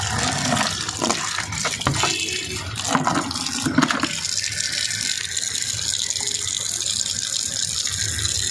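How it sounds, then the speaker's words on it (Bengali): Running water splashes steadily as freshly cut snakehead fish are rinsed and washed. The gushing, tap-like flow is close and fairly loud, with brief clattering bursts early on, then settles into a constant stream. "মাছগুলোকে কাটার আগে ভালো করে আঁশ ছাড়িয়ে মাথা ফাটা কেটে এই যে এখন ধুয়ে নিচ্ছে।"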